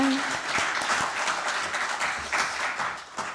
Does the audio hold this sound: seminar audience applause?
yes